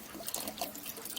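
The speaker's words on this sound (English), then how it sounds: "we'll just leave that cap off for the winter, allowing the water system to drain" Water trickles and drips steadily from the open drain cap of a camper's water system, a faint, close, irregular patter with no voices.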